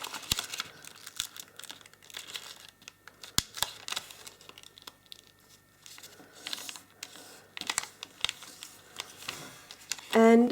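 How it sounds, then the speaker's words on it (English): Sheet of paper being folded and creased by hand into an origami Santa, with soft crinkles, taps and rustles spread through the clip, fairly close and quiet, ending in a louder burst of handling noise. "Now we can fold this top section down along"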